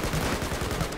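Rapid gunfire in Battlefield 4 team deathmatch on PC, a quick burst of repeated loud shots packed into about one second, with no talking.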